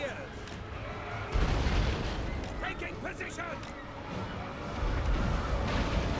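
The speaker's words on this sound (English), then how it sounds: "the hellfire of hell cannons coming in" Hell cannon artillery in the Total War: Warhammer 2 battle, firing and landing as heavy booming blasts under a rumbling battlefield bed, with voices heard throughout.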